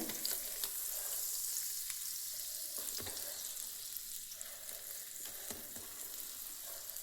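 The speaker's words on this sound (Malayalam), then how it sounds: "ചെറിയൊരു കഷ്ണം ബട്ടർ ഞാൻ അതിലേക്ക് ഇട്ട് കൊടുത്തിട്ട് നമ്മുടെ ബ്രെഡ് ഇവിടെ ഞാനൊന്ന് ചെറുതായിട്ട് ചൂടാക്കി എടുക്കുകയാണ്" Bread warming in a small knob of butter in a hot pan, giving a steady close sizzle and frying hiss throughout, with a few sharp clicks and scrapes from handling the bread.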